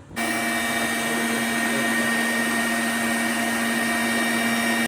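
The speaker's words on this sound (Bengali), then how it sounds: "দেখো আমার ব্লেন্ডার করা শেষ।" Electric blender motor whirring at a steady pitch, close and loud, running continuously with no break and no voices over it.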